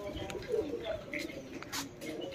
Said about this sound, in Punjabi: ਇੱਧਰ ਸਾਡਾ ਕਬੂਤਰ ਆ ਗਿਆ ਜੀ ਕਾਲੇ ਸਿਰ ਵਾਲਾ